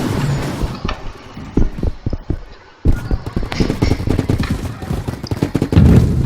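Sniper and other gunfire in the Roblox game Big Paint 2, with repeated sharp shots scattered across the clip, some close and loud, others fainter, over a busy game backdrop with brief gaps.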